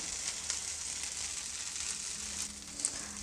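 A flipped tomato set dosa sizzles steadily on a hot pan, a continuous close frying hiss with faint crackles, and no voices present.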